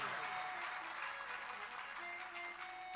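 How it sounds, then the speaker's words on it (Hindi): Faint, thin applause from a religious discourse audience, a soft, steady patter of scattered clapping heard from a distance with no voice over it. "मुझे पता था कि आप ताली बजाओगे, लेकिन मुझे ये नहीं पता था कि आप इतनी कंजूसाई से बजाओगे।"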